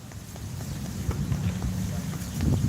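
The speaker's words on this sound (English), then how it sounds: "A little windy." Wind buffeting a microphone outdoors, a steady low rumbling roar lasting nearly three seconds with faint scattered thumps and no clear talking.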